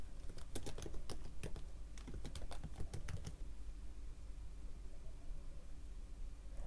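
Rapid, close keystrokes clatter on a computer keyboard in an uneven burst for about three seconds, then stop, leaving a faint steady hiss of room noise with no speech.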